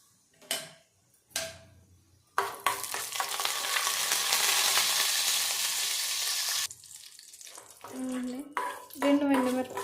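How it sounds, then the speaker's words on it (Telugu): Urad dal, dried red chillies and curry leaves crackle in hot oil for a curd rice tempering. A loud, dense sizzle runs for about four seconds, with short clinks and bursts before and after. "మినపప్పు, ఎండుమిరపకాయ, ఇంకా కరివేపాకు వేసుకుని తాలింపు వేసుకోవాలి"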